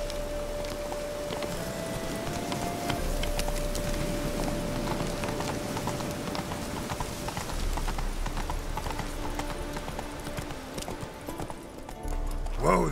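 A horse called Roach gallops with steady, rapid clip-clopping hooves, close and fairly loud, under a continuous bed of other noise and a voice speaking at times.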